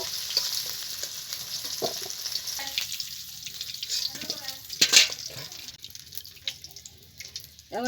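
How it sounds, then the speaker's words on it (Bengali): Potatoes frying in hot oil give a steady, close crackling sizzle, with brighter bursts and scraping clicks as they are stirred in the pan. "আলুটাও দেখুন সুন্দর ভাজা হয়ে গেছে"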